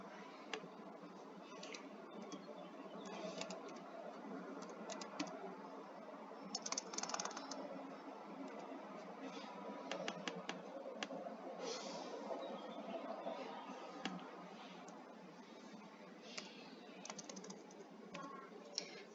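Fingers type on a computer keyboard in a quiet room, a continuous patter of soft clicks with brief faster bursts and small pauses, the keystrokes close and fairly faint with no voices.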